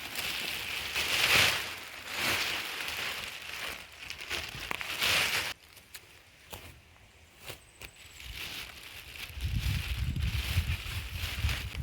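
A plastic sheet, not a tarp, handled outdoors to cover a beginner's compost pile, giving loud rustling crinkles in waves for several seconds, then quieter scattered crackles before the handling swells again.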